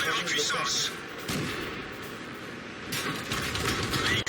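Tank cannon fire in the World of Tanks video game, with a few booming shots and rumbling blasts over steady engine and battle noise, loud and close.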